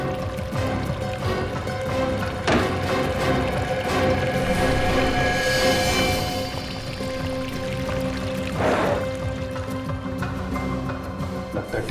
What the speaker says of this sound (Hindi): पानी की आवाज।